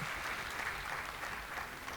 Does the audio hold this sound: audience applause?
yes